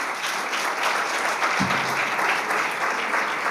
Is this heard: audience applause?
yes